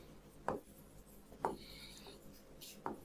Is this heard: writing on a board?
yes